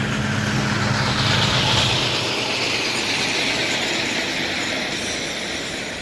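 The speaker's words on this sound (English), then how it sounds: "we got a truck coming up behind us here" A heavy truck rolls past on the road by a trucking terminal in Trenton, Ohio, a loud, steady engine roar and rushing tire noise that swells and then slowly fades as it goes by.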